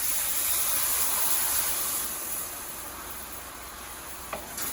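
Fat-free half and half poured into a hot skillet to deglaze the pan for shrimp pasta, giving a loud broad sizzle and hiss that slowly softens over a few seconds, with no talking.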